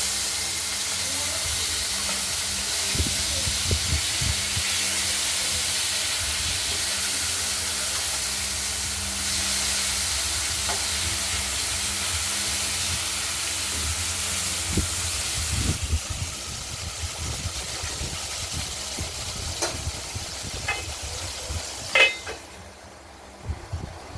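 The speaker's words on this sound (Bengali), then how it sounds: "আর মাছটাও ভাজা হচ্ছে, দেখতে থাকুন" Katla fish frying in a covered pan, a steady loud sizzling hiss with scattered pops and occasional clinks of pan or lid, continuing for over twenty seconds before fading at the end, no talk.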